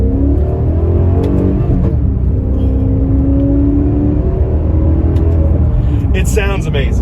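A Maserati 4200 CambioCorsa V8 engine revs while the car drives, with a loud, close engine drone whose pitch rises and falls through gear changes.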